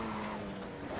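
Race car in a retro Formula One sim racing game locking up its brakes, a brief tire screech over steady engine drone, loud and continuous with no talk.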